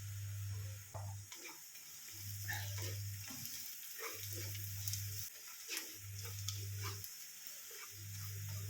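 Ground coriander, chili, turmeric and garam masala roast in a hot pan for a Kerala-style crab roast, giving a soft, steady sizzle with faint stirring scrapes, while a low hum cuts in and out at regular intervals.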